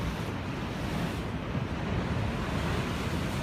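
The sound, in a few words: ocean waves at Ocean Beach, San Diego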